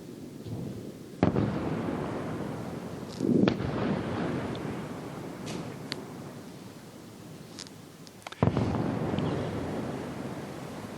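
Air defense interceptors striking incoming Iranian missiles during the Iran–US war, heard as a continuous rumbling roar with sharp distant booms near the start, middle and end, with no talk.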